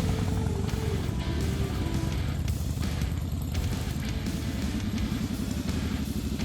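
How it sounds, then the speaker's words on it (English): Many motorcycles ridden by bikers in a veterans' memorial highway ride in Owego, New York, a steady dense rumble of several engines droning together, loud and continuous throughout with no talking. "Tons of bikers rode out to honor those who served in Vietnam"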